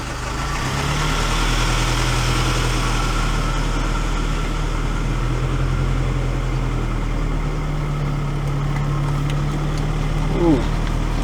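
A Nissan D22 Navara truck engine idles steadily with a low, even hum and vibration throughout, close and continuous, with no talk over it.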